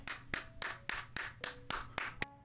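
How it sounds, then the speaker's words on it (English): Hand clapping sounds in a quiet room, eight or nine sharp, evenly spaced claps in a steady rhythm, close and fairly soft, with nothing else heard. "Clap, clap, clap."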